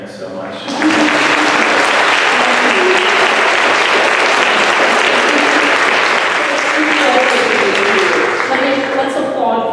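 A reading audience breaks into loud, sustained clapping for author Karen Salyer McElmurray, starting abruptly and staying dense and even for several seconds, with voices audible beneath it.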